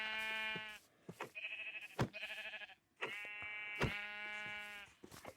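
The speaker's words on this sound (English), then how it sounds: "I'm just having a good time punching sheep." Video game sheep bleat repeatedly as they are punched, a string of loud nasal bleats broken by sharp hit impacts.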